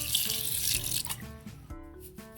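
River water pours and splashes steadily into a cooking pot, then the stream thins and the pitch rises as it fills.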